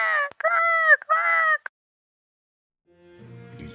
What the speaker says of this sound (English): Either way, a bird is up in the middle of the night,